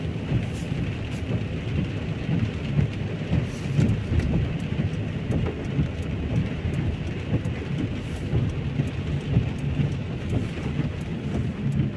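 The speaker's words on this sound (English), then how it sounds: "Lots of rain." Heavy rain pours steadily on a Thursday evening in Lewsey Farm, Luton, UK, a dense, constant wash of drops hitting surfaces and pooled water, loud and close with no voices.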